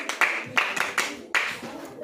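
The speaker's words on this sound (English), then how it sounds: "Clap for Alvin and Emmanuel." Schoolchildren in a class clap for classmates, a short run of sharp, uneven hand claps over a few seconds, with voices mixed in.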